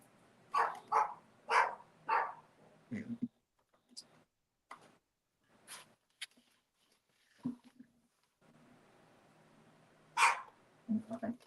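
Indoor dogs bark in a quick run of several sharp barks, then more sporadic single barks and yips follow after pauses, fairly close and clear.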